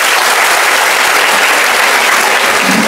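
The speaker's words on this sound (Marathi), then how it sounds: "एकदा जोरदार टाळ्या होत्या स्वतःसाठी." Loud, sustained applause from an audience at a teachers' honour ceremony in Maharashtra, dense clapping filling the whole stretch without a break and with no speech over it.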